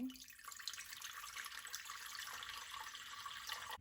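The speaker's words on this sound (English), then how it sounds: "pour 4 cups of water to boil." Water runs steadily from a tap into a cooking pot, about 4 cups for boiling, a soft continuous hiss and splash, fairly quiet and close, with no voices.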